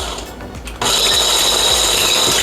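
Cuisinart hand blender whisking on low speed, a steady close motor whir that starts abruptly after a short quieter stretch and holds evenly to the end.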